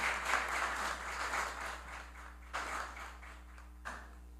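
A round of applause fills a legislative council chamber during a plenary session, a steady wash of clapping from the assembled people that fades and then returns in short bursts over a constant low hum.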